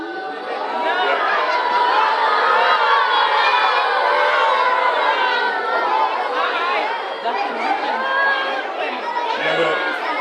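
Large mixed crowd of South Carolina and Clemson fans at a college football event, chattering, shouting and cheering in a dense continuous roar with children's voices rising throughout.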